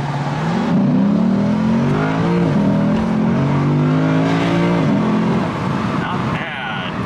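A Lexus IS500 F-Sport accelerates hard from a stop in Sport Plus mode, its engine note climbing steadily in a loud, sustained rev that dips briefly at each upshift before pulling again.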